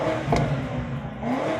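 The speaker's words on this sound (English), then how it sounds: "you can basically turn on that V8." The V8 engine of a 2025 BMW M5 (G90) revs up briefly and loudly nearby, with a short rising growl.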